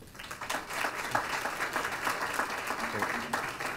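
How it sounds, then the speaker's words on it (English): Audience applause welcoming a doctor to the stage at a pediatric grand rounds lecture, steady moderate clapping from a seated crowd throughout, with some talk mixed in. "It's always nice when they clap before your talk"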